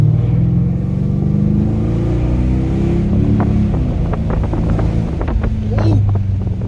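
A Mercedes CL550 drives along hilly roads, its engine a loud steady drone with shifting tones under heavy wind buffeting the microphone, a voice breaking in briefly near the end.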